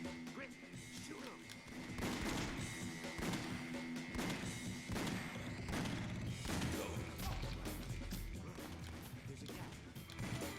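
Video game gunfire: repeated sharp shots and thuds in bursts across a busy mix, with a voice talking over the action throughout.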